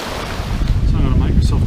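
Steady rush of the Stevenson River flowing, mixed with gusty wind buffeting the microphone, loud and close for a brief moment.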